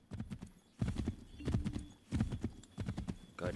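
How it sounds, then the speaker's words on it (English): Horse hooves clip-clop in a steady trotting rhythm in Assassin's Creed III, with a brief whinny near the end, close and moderately loud with no talking. "Quickly, Connor, get on the horse!"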